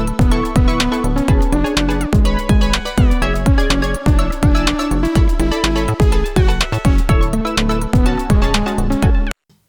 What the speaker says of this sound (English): Just a bit of a garbled mess of notes